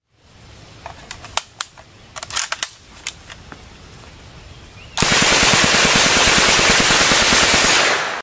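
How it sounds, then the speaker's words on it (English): An UZI submachine gun fires a long, loud, continuous rapid burst that starts abruptly, preceded by scattered mechanical clicks and handling sounds. "Capable of firing 600 rounds per minute, the UZI is a popular choice among criminals because of its portability."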